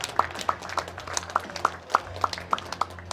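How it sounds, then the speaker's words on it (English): Sparse, evenly spaced claps ring out from a small crowd at an armlifting championship's silver bullet hold event, fairly close and distinct, with faint background murmur. "Round of applause for our winners here in the silver bullet event"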